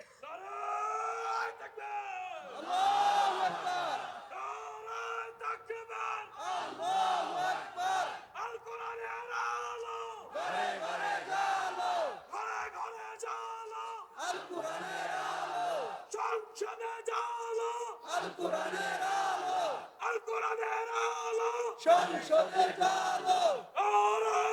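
A large crowd at a Bangladeshi religious sermon gathering chants slogans in loud, rhythmic bursts of massed voices, with call-and-response shouts repeating throughout, close and sustained.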